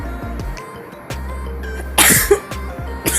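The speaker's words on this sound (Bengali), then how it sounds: "মাঝে মাঝে একটু কাশিও হয়" A woman coughing a couple of times in a home kitchen while cooking, short sharp bursts close to the mic over low background clatter.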